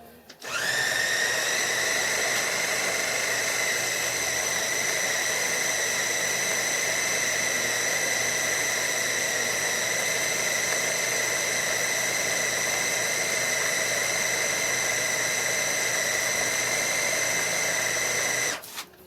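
Food processor whirring steadily as it blends smoked ramp pesto, a loud continuous motor whine that starts abruptly, holds for about eighteen seconds, then cuts off.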